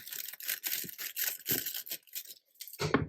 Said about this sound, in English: if you have excess shrink wrap, you can just cut off the excess